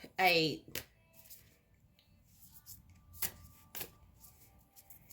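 Tarot cards are shuffled close by in a quiet room: a few short, soft riffling bursts separated by pauses, the first one loudest.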